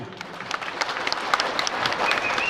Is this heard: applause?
yes